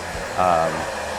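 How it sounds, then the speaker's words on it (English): A blow dryer drying a man's fine hair during a silver fox fade haircut, a steady whooshing motor hum that swells louder briefly midway, close up. "now that blow dryer, when you're blow drying the hair yourself"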